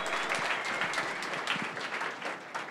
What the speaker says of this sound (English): Give them a round of applause for live streaming us every single time.